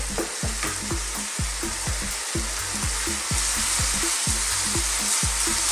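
Chopped red onion hitting a hot pan for chicken fried rice, a loud continuous sizzle punctuated by regular scraping strokes of a utensil stirring through the pan.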